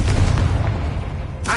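The Confringo explosive spell in the video game Hogwarts Legacy, a single loud, heavy blast with a low rumbling decay and a short sharp burst near the end.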